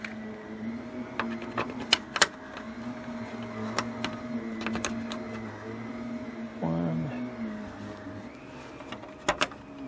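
A power driver runs screws into a part on an old 1995 Ford F150 pickup, its steady close whir broken by sharp clicks and snaps as each screw seats and the bit skips.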